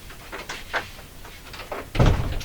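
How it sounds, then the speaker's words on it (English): An indoor door is pushed shut in a workshop, a few soft creaks and bumps ending in a fuller thud, close and moderately loud with no talking. "I'm just going to close the door here."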